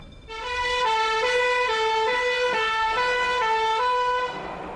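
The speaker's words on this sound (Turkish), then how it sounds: "Alarm çalıştırıldı ve itfaiye yola çıktı." A loud wailing fire alarm siren during a factory fire drill, with strong harmonic tones, steady and continuous, alternating between two pitches in a regular up-down pattern before cutting off near the end.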